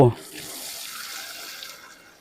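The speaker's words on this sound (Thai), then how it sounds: "โอเค น้ำไหลเอาปิด" Water flowing from a repaired faucet that used to drip, a steady close hiss of running tap water after a brief knock at the start, fading slightly toward the end.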